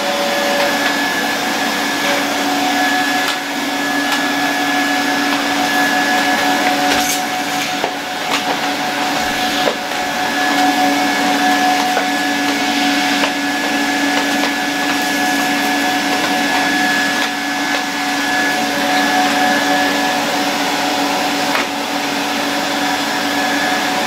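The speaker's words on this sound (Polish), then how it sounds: "Mam wrażenie, że całkiem fajnie to odkurzanie funkcjonuje." Zelmer vacuum cleaner running across a dusty workshop floor, a steady loud whine with a constant high-pitched tone and occasional bumps and clunks as the nozzle moves, no talk.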